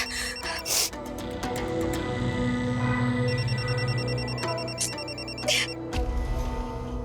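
A telephone rings repeatedly in a trilling, electronic pattern over a busy, noisy background, with brief louder bursts between rings.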